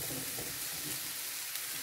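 Okra tossed into a pan of well-roasted masala sizzles in a steady, close, even crackle with no voices over it.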